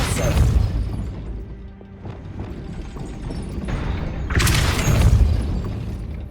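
A Depulso force spell cast in Hogwarts Legacy gives a booming magical blast with a sharp crashing burst at the start and another strong whooshing impact near the end, with rumbling in between.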